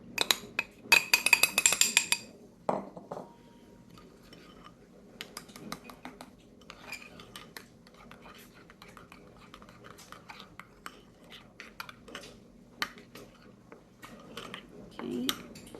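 A utensil stirs maple syrup and pectin together in a bowl, sharp clinks and scrapes at first, then softer intermittent taps and clatter, fairly quiet.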